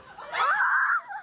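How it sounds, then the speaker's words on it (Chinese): Students scream in a dormitory while typhoon winds batter the campus: one sustained, high-pitched shriek rising and then tapering off, loud and close, lasting about a second. "外头风声咻咻叫，屋内学生惊声尖叫"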